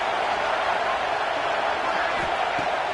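A roaring stadium crowd in College Football 26, a steady broad wash of cheering noise holding at even loudness throughout, with faint thuds underneath.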